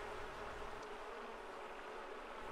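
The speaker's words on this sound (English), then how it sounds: "As you can hear, it will have the sound of a swarm of bees too." Swarm of bees in The Sims 4 video game, a steady, faint, hissy buzz that continues unbroken.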